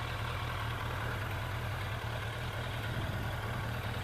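A steady, low Yamaha XJ750 motorcycle engine rumble idling continuously through original stainless exhaust silencers, with a deep throaty drone and hiss, no voices.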